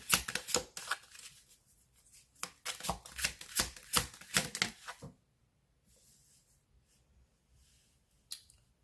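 A tarot deck is shuffled up close in quick, crisp riffling bursts for about five seconds, then the sound drops to near silence, with one short rustle of cards near the end.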